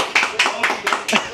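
A few people clapping on request, five distinct rhythmic bursts of claps spaced about a quarter second apart, close and fairly loud, with voices talking alongside.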